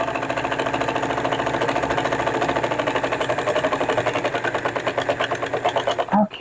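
A sewing machine stitches half-square triangle quilt pieces, running steadily with a fast, even mechanical chatter close by for about six seconds before stopping with a brief clunk.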